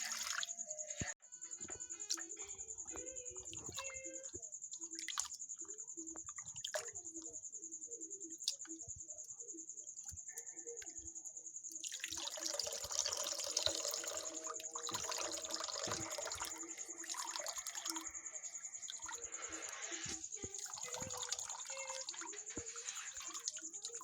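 Chhana, fresh cottage cheese, is rinsed under clean tap water, with a steady stream running and splashing while drips and small wet handling noises come through up close.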